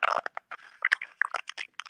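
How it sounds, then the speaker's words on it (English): Crunching from someone chewing food close to the microphone: a rapid run of crisp, irregular bites and crackles with brief pauses, and no talking. "And I'm hearing some crunching."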